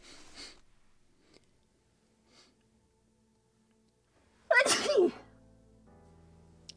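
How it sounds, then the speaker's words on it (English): A single loud, close sneeze bursts out after several seconds of near silence and a few soft breaths, from someone at a workbench building a wooden model kit of the 1776 gunboat Philadelphia. "Let me sneeze one more time."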